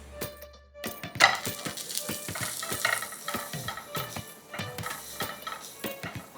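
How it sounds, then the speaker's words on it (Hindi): A paratha fries in ghee on a hot pan, a bright continuous sizzle with rhythmic scraping and pressing strokes throughout, close and fairly loud, with no voice. "देखिए किस तरह से फूल रहा है हमारा paratha. And that beautiful sizzle"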